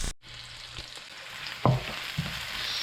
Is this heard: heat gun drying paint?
no